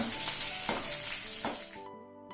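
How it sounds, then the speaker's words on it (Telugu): Curry leaves and small onions fry loudly in hot oil for a bitter gourd dish, with a dense sizzle and a few stirring strokes before the sound cuts off abruptly. "అదే విధంగా కొంచెం కరివేపాకు కూడా ఈ చిన్నులపాయలో కలిపి వేయించుకుందాం."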